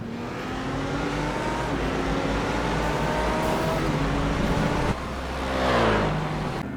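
Sports race cars roar around Road America during a WeatherTech SportsCar Series round, several engines droning loudly together with rising and falling pitch as the field accelerates, one car passing close near the end.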